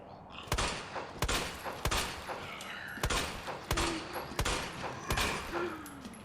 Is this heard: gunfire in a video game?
yes